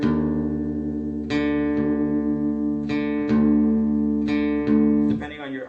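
Guitar strings in drop D tuning are plucked repeatedly, paired notes ringing together as one string is adjusted by ear to match the other, several clear attacks over a sustained low drone, close and steady.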